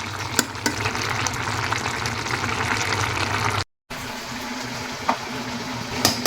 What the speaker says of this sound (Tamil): பொங்கல் வெந்து வருது